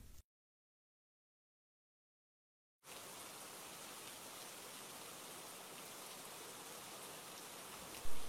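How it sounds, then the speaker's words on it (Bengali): Steady rain falls in an animated Bangla moral story, a dense, even hiss that begins abruptly after a couple of seconds of silence and continues unbroken to the end. "মা দেখো, বৃষ্টি পড়ছে।"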